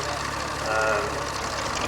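A GM two-stroke diesel engine on a tractor at a rural heritage rally idles smoothly with a steady mid-low drone, fairly close, while people talk over it.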